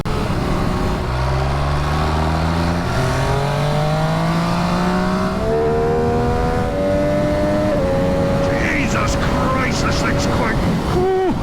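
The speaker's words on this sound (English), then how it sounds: "So that went down to first gear" A 2022 MV Agusta F3 RR sport motorcycle engine revs loud and close, its pitch sweeping up through repeated gear changes, then dropping as it shifts down to first; a voice exclaims near the end.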